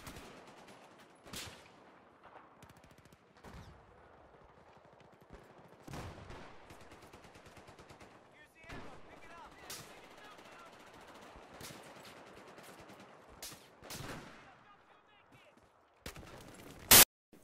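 QBB-95-1 light machine gun fire in Battlefield 4, short bursts and longer sustained strings of rapid shots repeating across the stretch, with a few loud sharp reports standing out.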